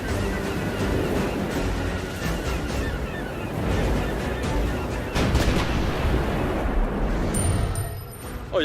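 Booming cannon fire rolls through the Tampa Bay Buccaneers broadcast intro, a dense run of loud blasts and crowd-like roar lasting several seconds.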